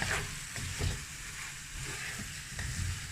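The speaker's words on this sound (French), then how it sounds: "Je remue tout ça." A spoon stirs lamb and potato stew with vegetables in a pot, a soft, steady sizzle with faint scraping strokes at an even pace.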